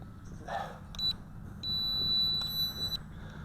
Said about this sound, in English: I am going to assume that long beep means the video camera is either activated or deactivated.